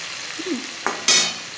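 Drumstick, potato and eggplant fry with tomato in a pan, a soft steady sizzle broken by a couple of sharp scraping stirs near the end.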